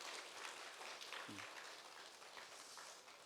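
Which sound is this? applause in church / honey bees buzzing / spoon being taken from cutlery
applause in church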